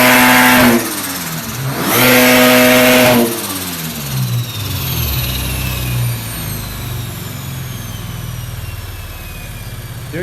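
A turbocharged 6.2-litre LS V8 swapped into a Subaru BRZ, fitted with a cheap Holset turbo from a second-generation Cummins, revs loudly in two sharp bursts up to the ignition cut, then settles back into a rough, rumbling idle.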